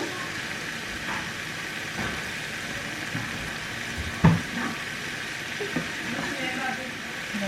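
Vegan food sizzling in a pan, a continuous low frying hiss with a few soft scrapes and knocks of stirring, one louder clack midway, heard close.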